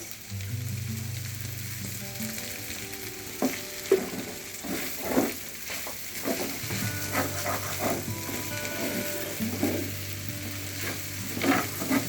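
Capsicum stirred in a frying pan with pepper powder, tomato sauce and chopped coriander, giving a steady close sizzle broken by scraping spatula strokes and clinks, with no talk.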